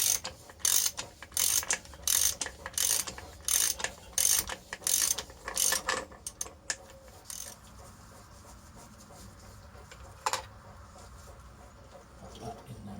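A ratchet clicks in quick, regular bursts while undoing a bolt during a belt replacement, loud and close, then slows to a few scattered clicks and light handling noises.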